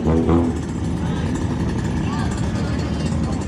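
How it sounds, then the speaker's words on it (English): A Pandem-kitted Honda Civic pulls away at Stancenation Japan G Edition 2022, its engine rumbling steadily at moderate distance beneath crowd noise and nearby talking. "Pandem Civic is leaving."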